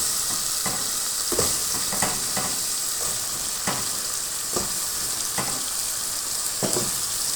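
Vegetables tipped into a pan of cooked-down spice masala, cauliflower held back, hiss and sizzle steadily in the oil while a spatula scrapes and stirs in intermittent strokes close by, with no talking.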